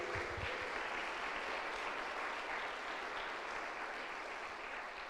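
Steady, sustained applause from a congregation during a church service, filling the space evenly for several seconds without speech.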